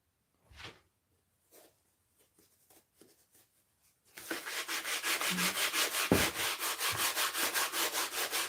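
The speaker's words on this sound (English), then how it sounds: "And you can see how easy it is to sand it off." A model railway embankment is sanded by hand: a few faint taps and scrapes at first, then a loud, steady run of rhythmic rubbing strokes that continues to the end.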